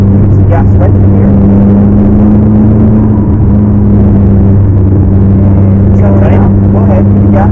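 Sustained rumbling drone of a McLaren 12C twin-turbo engine accelerating, heard from inside the car, loud and steady with shifting pitch, and a voice giving instructions over the engine.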